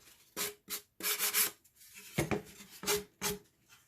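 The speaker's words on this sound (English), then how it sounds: "So you want to make sure you sand it really well." Edges of a wooden cigar box are sanded by hand in short, close, rasping strokes, about seven separate scrubbing bursts with brief pauses between them.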